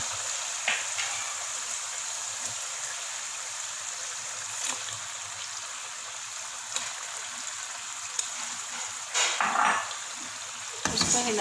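Meat hisses and sizzles in hot masala while a spoon stirs it, a steady close frying hiss with occasional scraping clinks and brief louder bursts near the end.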